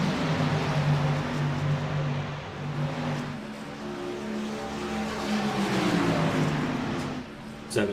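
Race cars circling Las Vegas Motor Speedway, a loud continuous engine drone with shifting pitch as cars pass, sustained throughout with a brief rise near the end.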